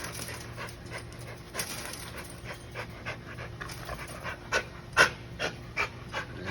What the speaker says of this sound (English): He's just a compact American dog.